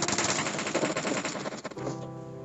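Rapid automatic gunfire from PUBG Mobile on the Livik map, a loud dense burst of repeated shots that crackles steadily for about two seconds and then tapers into a ringing tail.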